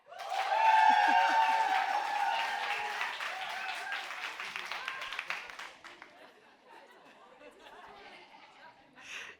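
An audience at a live interactive debate breaks into loud applause mixed with chatter and a little laughter, swelling quickly and then tapering off into scattered claps and murmurs.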